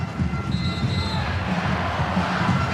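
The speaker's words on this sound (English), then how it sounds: "the Iceland crowd are part of it now" Iceland fans in a football stadium during a Nations League match against Wales, a steady distant crowd roar and murmur with a faint whistle-like tone, continuous throughout.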